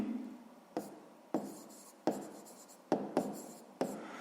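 A pen writes an answer on paper at close range, giving about six short scratchy strokes, each starting with a sharp tap and fading into a soft scrape, with no talking.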